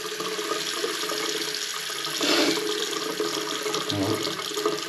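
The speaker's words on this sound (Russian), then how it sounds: "сливаю горячую воду." Hot water runs steadily from a tap into a sink, a continuous close splashing rush with no talk.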